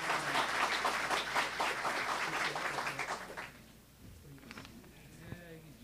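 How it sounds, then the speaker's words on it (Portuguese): Audience applause at a Brazilian traffic-safety education event, steady clapping from a crowd for about three and a half seconds that fades into quiet room murmur. "Uma salva de palmas."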